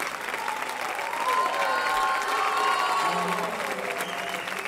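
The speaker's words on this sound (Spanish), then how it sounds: "fort aplaudiment per al senyor director," Loud, sustained audience applause for the conductor at a wind band concert, a dense crowd of clapping with scattered cheers lasting throughout.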